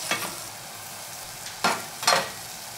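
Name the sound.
beef frying in a pot for soft tofu stew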